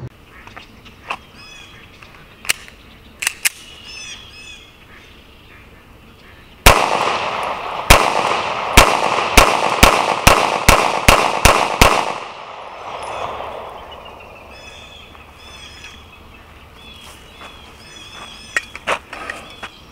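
Shots from a Sig Sauer 365 XL pistol with a Romeo Zero red dot at an outdoor range at 7 yards: a few scattered distant reports, then a loud rapid string of about ten close sharp cracks, followed by quieter range sounds.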